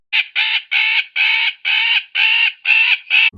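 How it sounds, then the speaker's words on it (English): A magpie gives a rapid series of eight harsh, rasping chatter calls, evenly spaced and close by. "an alarm or distress call produced by a magpie bird"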